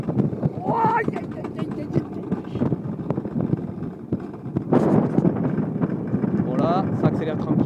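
Alpine coaster sled rushing downhill and picking up speed, a steady roar of wind and rolling runners throughout, with excited voices talking and shouting over it.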